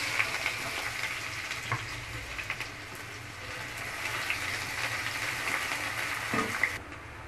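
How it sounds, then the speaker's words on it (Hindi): Onions fry in hot oil with bay leaf, cumin and cardamom for mutton kadai gosht, a close, steady sizzle with occasional stirring scrapes and no talking. "अब मैं इसमें प्याज ऐड करूँगी,"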